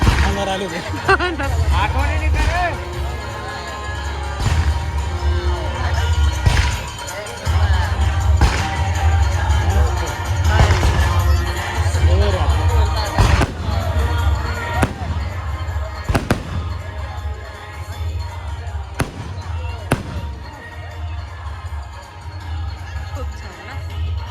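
Fireworks crackle and boom at a wedding celebration, a long run of sharp bangs at uneven intervals over a constant low rumble, loud and continuous throughout, with crowd noise and some talking mixed in.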